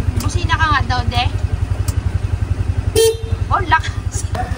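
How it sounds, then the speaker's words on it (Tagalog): A motor vehicle's horn gives a short honk over a pulsing, idling engine on a flooded road, with voices talking around it. "Busina ka nga daw"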